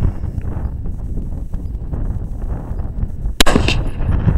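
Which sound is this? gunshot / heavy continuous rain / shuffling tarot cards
gunshot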